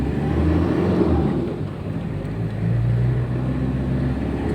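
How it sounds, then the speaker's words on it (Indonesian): A 1999 Toyota Kijang, fitted with a catalytic converter upgrade, oil additive and tuning, drives on a test run; a steady low engine drone and road rumble stay continuous and fairly loud throughout, with no talk. "Kita bawa jalan dulu mobil Kijang."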